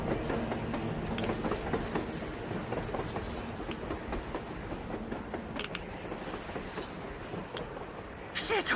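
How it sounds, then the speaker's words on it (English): A train runs across the surface in the Metro Exodus video game, a steady rumbling, clattering rush of wheels and creaking cars that carries on throughout at moderate loudness. "A train! A damn train on the surface!"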